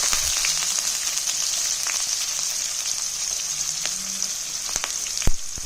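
Onion and cumin sizzle steadily and loudly in a hot pan as they are sautéed for bottle gourd rice, with occasional faint clicks from stirring.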